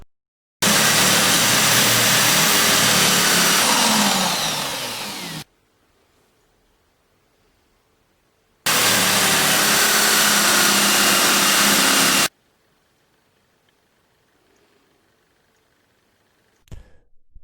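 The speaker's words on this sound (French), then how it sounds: "On démarre par le ponçage des pièces à souder." Power sander working aluminium parts to strip the surface oxide before welding, two loud steady bursts of about five and four seconds with near silence between them.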